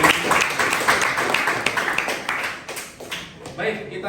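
Students in a high school Islamic religious education class clap for a presenting group, a scattered round of applause that thins out over a few seconds indoors.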